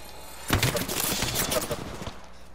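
Burst of rapid gunfire in the video game Apex Legends, a dense volley of shots lasting about a second and a half, loud and close.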